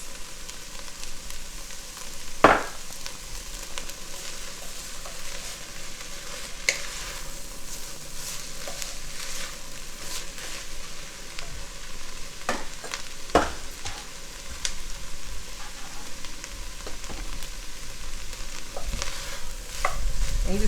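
Garlic and green onions sauté in a Dutch oven with a steady, close sizzle that carries through the whole stretch, broken by occasional utensil clicks and scrapes against the pot.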